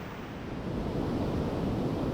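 Waves wash steadily onto a coastal desert beach, a continuous broadband roar of surf with wind that swells slightly after the first half second and holds, with no voices.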